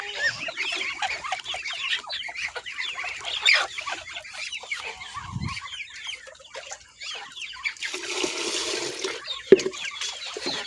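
Many chickens cluck and chatter continuously close by, with a few louder squawks breaking through the busy flock noise.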